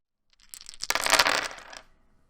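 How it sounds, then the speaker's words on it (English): Twelve plastic dice pour into an Axis & Allies battle box, making a brief, close clattering rattle of many small pieces that swells and fades within about a second and a half. "load it with the 12 dice"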